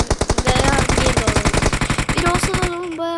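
Rapid automatic gunfire in a shooter video game, loud close bursts of fast repeated shots that continue for nearly three seconds before cutting off, with a voice briefly heard underneath.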